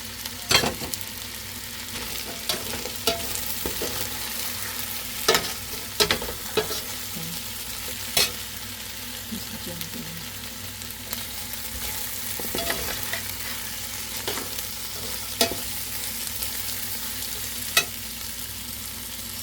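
Carrots sizzle in a hot pan with marinated chicken, stirred steadily with scraping utensil strokes over a constant frying hiss, close and continuous, with no talking.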